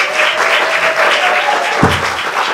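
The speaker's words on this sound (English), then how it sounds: "Can we just give a big massive round of applause to everyone in the first hour?" Audience applause at a pub arts night, a dense continuous wash of many hands clapping at close range for the full length, with a faint whoop or cheer riding on top and a brief low thump near the end.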